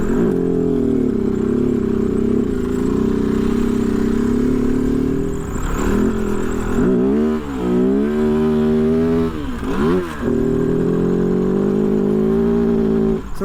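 A 2023 Kove FSE 450R rally motorcycle ridden through sand, its engine droning loud and close throughout, with revs rising and falling through gear changes in the middle and a rider struggling with third gear slipping.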